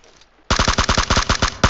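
Rapid automatic gunfire in PUBG Mobile, a loud close burst of about a dozen evenly spaced shots that starts suddenly after a quiet moment, with one last sharp shot just after it.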